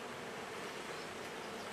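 Honeybees buzzing steadily inside an open beehive during a frame inspection, a dense continuous drone from many insects close by with no voices.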